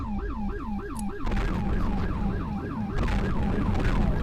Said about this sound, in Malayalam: പോലീസ് വണ്ടി പോണ്.